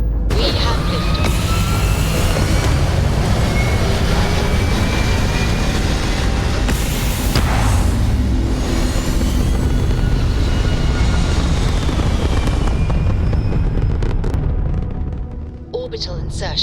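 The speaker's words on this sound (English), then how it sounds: "We have liftoff." Starfield spaceship lifting off, a loud sustained roaring rumble with broad engine noise that holds steady for most of the span before thinning and fading at the end, with game voice lines heard over it.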